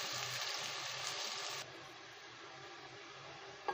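Onions browning in a pan for kachri qeema, giving a steady, soft sizzling hiss that runs unbroken and grows slightly quieter partway through, with no voices.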